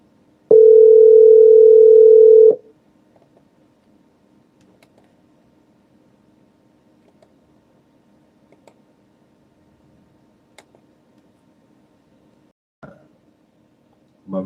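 A steady telephone dial tone sounds loud and alone for about two seconds, then cuts off, leaving near silence broken by a few faint clicks and taps.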